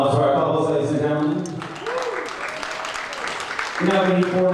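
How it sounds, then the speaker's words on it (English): An audience applauds couples at a ballroom dance competition, a moderate wash of clapping sandwiched between an announcer's amplified speech at the start and end. "So applause for our couples, ladies and gentlemen."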